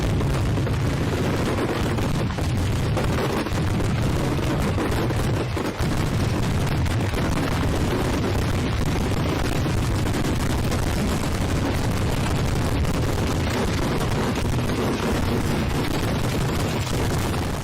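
Fireworks exploding in a dense, unbroken barrage, a loud continuous crackling roar of overlapping bangs and booms with no pauses, heard without talk.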